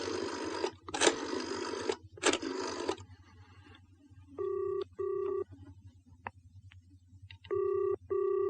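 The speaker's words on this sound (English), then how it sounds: "Look, I'm going to make a phone call." A telephone is dialed for a call: a few loud clattering handset bursts come first, then two separate runs of short, evenly spaced touch-tone beeps, heard close and alone in a quiet room.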